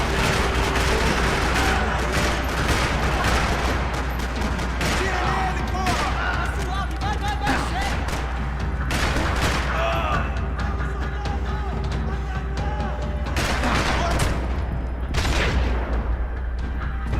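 Gunfire echoes through a parking lot in the Max Payne 3 video game, with repeated dense bursts and single sharp shots over a constant low rumble and music for the whole stretch.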